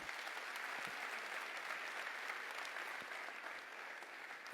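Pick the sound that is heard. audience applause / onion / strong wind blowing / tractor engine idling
audience applause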